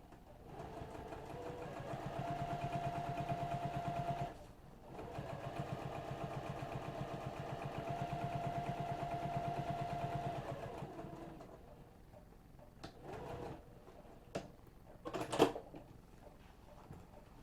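An electric sewing machine stitches a second row on a business bag, running in two steady mechanical bursts with a short pause between, then stopping; quieter handling clicks and rustles follow, with no talking.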